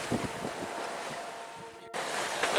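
Ocean waves and gusty wind roar around a sailboat tacking directly upwind on a passage to Luperon, a loud, continuous rushing wash with brief splashes, interrupted by an abrupt cut before the noise resumes.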